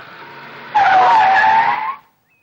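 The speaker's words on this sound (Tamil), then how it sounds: "என்னது வண்டி நின்னு போச்சு?" A car skids to a stop with a loud, close tire squeal lasting about a second over a low engine hum, then cuts off into near silence.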